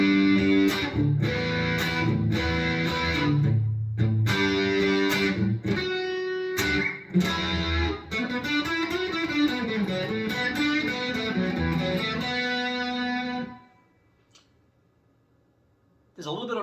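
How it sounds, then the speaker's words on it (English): Electric guitar with a Seymour Duncan single-coil-sized humbucker runs through chorus and flanger pedals into a Fender Passport's digital room reverb, sounding loud and continuous with sweeping strummed chords and picked notes, then stops abruptly near the end. "There's a little bit of reverb coming from my Fender Passport, which has this just kind of a digital room reverb"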